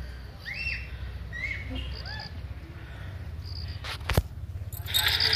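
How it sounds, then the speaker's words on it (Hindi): Assorted bird chirps and whistling calls of different kinds over a steady outdoor hum in Mussoorie, with a sharp knock and a brief rustle near the end. "अभी आप सुन रहे चिड़ियों की जो आवाज़ है अलग अलग टाइप की यहाँ पर आ रही है"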